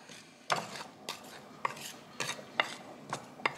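Seasoned pasta sauce with salt and black pepper gets stirred with a utensil, giving a run of quiet, close scraping strokes at a steady pace, about one every half second, with nobody talking.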